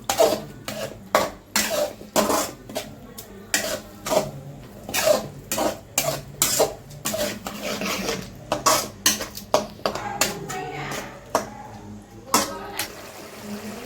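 A spoon scrapes and clinks repeatedly against a pan while an egg bhurji mixture with salt and water is stirred, in a steady rhythm of sharp metallic taps.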